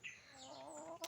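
A chicken kept in an enclosure alongside pigeons gives a faint, brief clucking call, a single wavering note that ends in a short sharp chirp.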